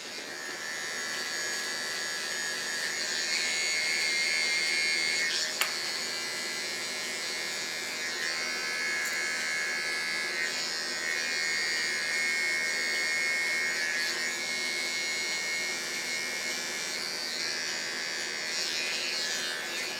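Electric barber clippers buzz steadily and close up during a bob and side-shave haircut, a constant bright whine that holds for the whole stretch with slight shifts in pitch as the blades move through hair.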